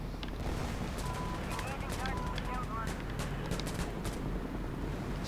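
Gunfire in the game Insurgency Sandstorm: dense, continuous bursts of rifle shots and heavy booming rumble, loud and unbroken, with players' voices talking over the battle.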